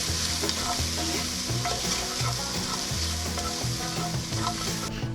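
Onions sautéing for pot roast in a pan, a steady close sizzle with frequent stirring scrapes and clinks running throughout, loud and continuous with no talk.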